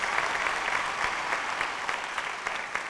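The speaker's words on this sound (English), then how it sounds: "give them a round of applause" Sustained applause from an audience at a beauty pageant grand finale, steady clapping of many hands for a few seconds.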